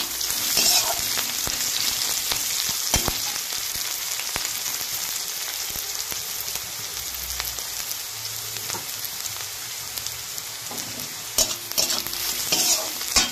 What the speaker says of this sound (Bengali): তো দেখুন পেঁয়াজটা একদম ভাজা ভাজা হয়ে গেছে।